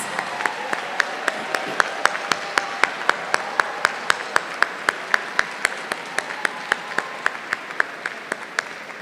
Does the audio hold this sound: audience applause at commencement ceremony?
yes